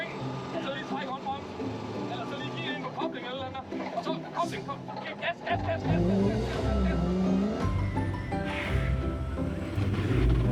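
A car drifting on track squeals its tyres in drawn-out wavering bursts over a loud engine that builds toward the end, with people talking throughout.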